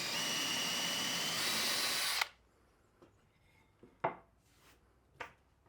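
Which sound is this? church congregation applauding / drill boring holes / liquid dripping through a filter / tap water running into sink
drill boring holes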